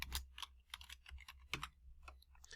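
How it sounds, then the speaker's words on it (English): Quiet, close keystrokes on a computer keyboard as a certificate number is typed in, a short irregular run of soft clicks with no voices. "You can type that in as well."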